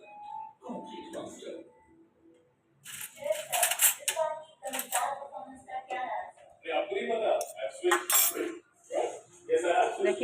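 A spoon clinking against dishes while serving freshly fried bhaji at home, light scattered metallic taps and clatters in short bursts, close by, with a person speaking intermittently.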